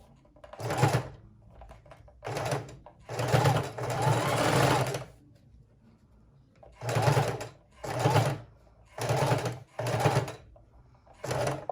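A sewing machine stitches a pocket onto a junk journal page in several short close bursts of rapid whirring, separated by brief quiet pauses.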